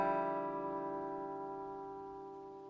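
A sustained guitar chord built from a root, minor third, fourth and ninth, with no fifth or seventh, rings out alone and decays slowly and evenly.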